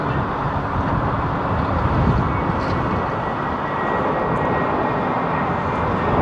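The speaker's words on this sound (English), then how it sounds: "why are some aircraft taxiing around the airfield on their own and others being pulled?" Aircraft at London Heathrow Airport taxiing on the airfield, a steady broadband engine rumble and roar that holds at an even level throughout, with no talk.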